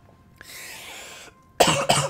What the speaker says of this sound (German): Ab und zu muss ich nochmal husten.